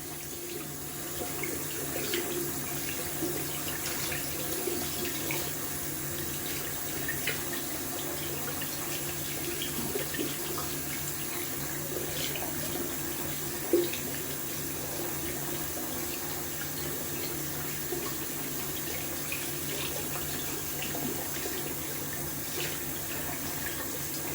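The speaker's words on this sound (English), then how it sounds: "I'm gonna wash out the brush." A tap runs steadily at low level while a shaving brush is rinsed under it, a continuous, even wash of water with faint splashing and no talking.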